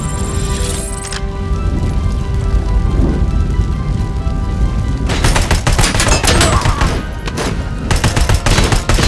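Gunfire from the video game RoboCop: Rogue City fills the scene with loud rapid bursts and sustained fusillades of shots. A tonal game sound fades early, and the firing intensifies into dense cracking volleys.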